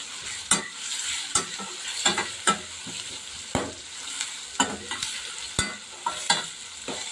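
Tomato pieces frying in an eggplant and raw mango curry, a continuous sizzle punctuated by rhythmic, sharp spoon strokes scraping and knocking the pan, close and clear.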